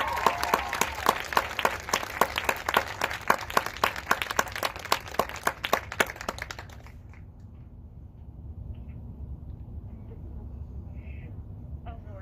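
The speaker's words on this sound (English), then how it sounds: "Let's give them a round of applause." Dense, lively clapping from a small audience at a marching band awards event honours the band leaders, then fades out about two-thirds through into quiet room noise.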